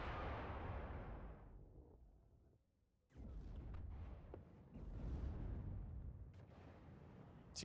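TOW jeeps launching anti-tank missiles in WARNO, heard as several deep, rumbling booms and blasts that swell and fade, separated by a brief lull, with sharp cracks scattered through the later bursts; no talking.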